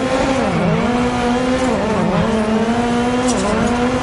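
Toyota Yaris rally car driven flat out on a reversed Shinshiro mountain pass in WRC 9, its loud engine holding high revs with quick dips and climbs through gear changes, continuous throughout.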